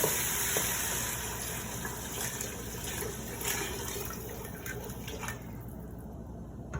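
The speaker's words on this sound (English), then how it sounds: "And slowly pour in chicken stock" Chicken stock poured slowly into a pot of rice, a soft continuous liquid splash and trickle that fades toward the end, heard alone without talk.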